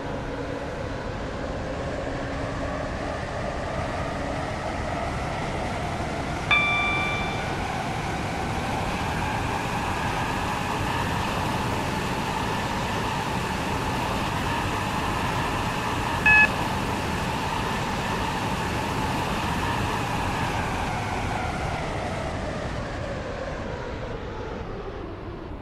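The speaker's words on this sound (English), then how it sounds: "Welcome aboard this Waterline train to Newry." A Waterline passenger train runs toward Newry with a steady, even rumble and a sustained tonal whine, punctuated by two brief high electronic beeps.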